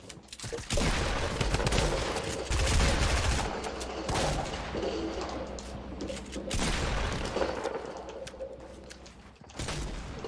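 A dual-barrel shotgun fires in a close-range video game fight: loud, dense bursts of gunshots repeat in rapid clusters, with brief gaps and mechanical clatter between volleys.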